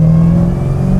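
A 1025 HP Dodge Demon 170 under hard throttle, a loud close engine drone holding a steady low pitch for a brief moment with no voices.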